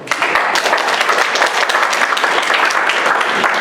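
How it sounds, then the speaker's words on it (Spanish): A room full of teachers at a workshop applauds, dense steady clapping that stays loud and even throughout, with no one speaking. "Un aplauso a este grupo."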